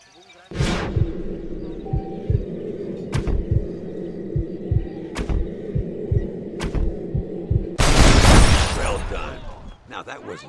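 Schofield revolver gunshots in the Western video game Red Dead Redemption, with several sharp, loud reports spaced out over a droning, rhythmically pulsing game score and a louder burst of noise near the end.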